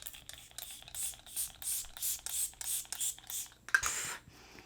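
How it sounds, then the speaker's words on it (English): Milk Makeup setting spray misting in a run of about nine close, soft hissing pumps at a steady rhythm, then a brief louder rustle before it stops; no speech. "I'm going to go into the Milk Makeup Setting Spray."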